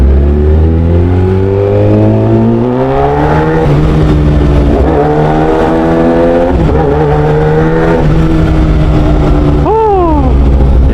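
A motorcycle ridden on the road, its engine loud and close as it revs up through repeated rising gear pulls with brief dips between shifts, a steady roar throughout.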